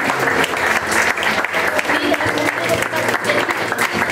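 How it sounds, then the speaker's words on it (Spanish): Loud, continuous applause from a crowd at a quinceañera celebration, dense clapping throughout with voices mixed underneath. "le damos un fuerte aplauso."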